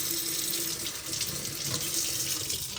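Water runs steadily from a tap into a sink, a continuous close rushing splash with no voices.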